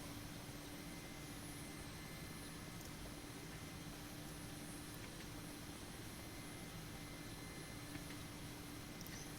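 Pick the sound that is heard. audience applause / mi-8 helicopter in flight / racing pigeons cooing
mi-8 helicopter in flight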